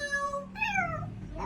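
A chihuahua produces a meow-like cry on command: two drawn-out, whiny tonal calls, the second rising and falling, close and clear over a low background hum.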